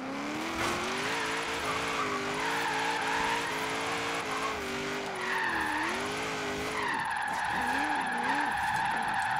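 Ferrari 599 sliding sideways in Forza Horizon 3, its engine holding a steady wavering drone while tires squeal continuously through the drift, loud and close throughout.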